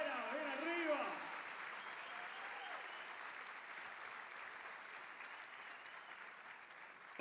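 Sustained audience applause for singer Pía Vera fills a singing workshop concert hall, dense and even, with a brief voice at the start before the clapping gradually thins toward the end.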